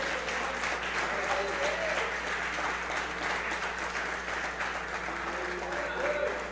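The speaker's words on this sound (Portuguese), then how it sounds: "Ah, o pessoal está aplaudindo." A church congregation applauds at a Sunday service, a steady, dense wash of clapping that holds for the whole stretch without a break.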